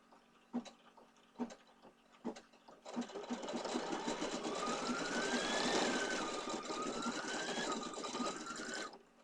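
An embroidery sewing machine stitches with pink thread: a few isolated needle clacks at first, then a continuous fast, whirring stitch run with a rising motor whine, loud and close, no voices.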